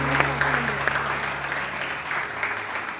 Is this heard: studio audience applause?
yes